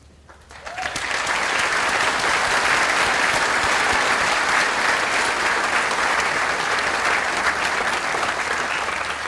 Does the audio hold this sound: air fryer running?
no